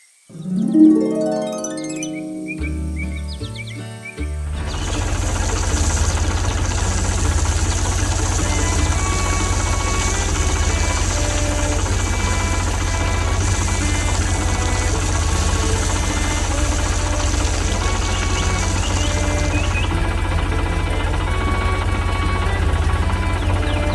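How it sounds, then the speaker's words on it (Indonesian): An animated blue tractor with a yellow tank works among growing crops beside a neat wooden fence. After a brief jumble of cartoon sounds, its engine settles into a steady, loud, continuous drone that runs to the end. "Traktor biru dengan tangki kuning sedang bekerja di sekitar tanaman yang tumbuh dan pagar kayu dengan kayu yang rapi."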